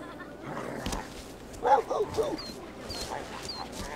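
Stray dog in The Sims 3 giving a few short yips and barks in the middle of the clip, moderately loud over game background sounds, with faint talk in the mix.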